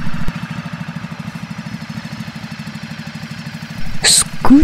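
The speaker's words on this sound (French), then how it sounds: "Scooter." A scooter engine idles with a fast, even putter that stays steady and close. A short high squeak or chirp stands out near the end.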